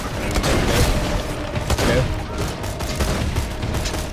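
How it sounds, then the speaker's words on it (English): Slow-firing pellet gun shots in Borderlands 2 crackle in a dense, continuous barrage of booming blasts and bursts, loud and close, with scattered game sound around them. "Look at the pellets from this gun and how slow they fire."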